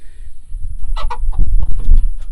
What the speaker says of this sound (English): let me show you the hens